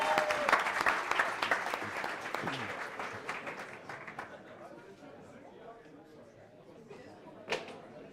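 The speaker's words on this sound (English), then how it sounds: "Give them a round of applause." A conference audience at a general assembly in Tirana claps loudly at first, the applause thinning and fading over several seconds. A few scattered claps and murmured chatter linger near the end.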